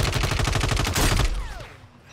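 Gunfire in a Call of Duty match: a loud, rapid string of shots in quick succession, followed by a ringing tail and a brief high whizz fading out.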